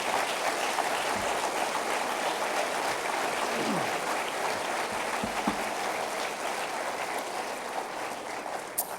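A church congregation applauds in praise, a dense, even wash of clapping that holds steady throughout, sounding somewhat distant and hissy like rain.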